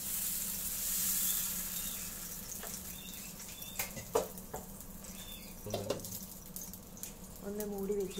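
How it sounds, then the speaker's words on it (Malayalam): Dosa batter hits a frying pan greased with coconut oil and gives off a faint, steady sizzle, broken by a few light clinks and taps of utensils. "ഒരു പാൻ വെച്ചതിന് ശേഷം അല്പം വെളിച്ചെണ്ണ തടവി കൊടുക്കാം. എന്നിട്ട് ഈ മാവ് ഇതിലേക്ക് ഒഴിക്കാം."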